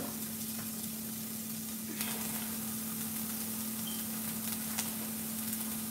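Onion for chicken mole fries in a pan, producing an even, fairly quiet sizzling hiss over a low steady hum, with a couple of faint clicks.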